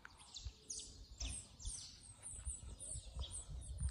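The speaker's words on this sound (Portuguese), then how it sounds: "Tô gravando aqui, gente, olha que fofura, junto com os passarinhos." Small birds chirp and tweet faintly outdoors near a reservoir, scattered high calls over a soft, uneven background of low rumbling and breeze.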